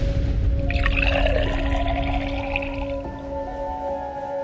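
Water pours steadily into laboratory flasks, a loud, continuous splashing and gurgling fill that tapers toward the end, with no talking.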